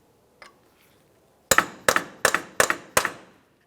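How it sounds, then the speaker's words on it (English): Five sharp, evenly spaced metal strikes of a hammer on a punch against a front axle splined into the wheel bearing hub of a 2002-2005 Ford Explorer, loud and close, after a faint earlier tap. "The next thing you're going to want to do is use a hammer and a punch."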